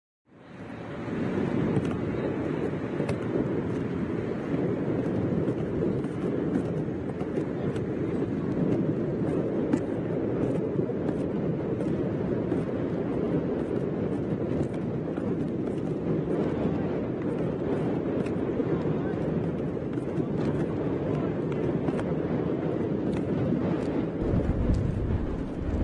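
Wind gusts buffet steadily across an open cricket ground, a continuous low rumbling roar with faint crackle, unbroken and fairly loud throughout, with no talk.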